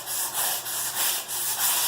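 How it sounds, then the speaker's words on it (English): A sanding block rubs lightly over a dried spackle patch on a wall, making quick back-and-forth scratchy strokes in an even rhythm, close and clear with no other sounds. "take a sanding block and just lightly sand it"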